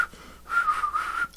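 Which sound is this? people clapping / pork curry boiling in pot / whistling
whistling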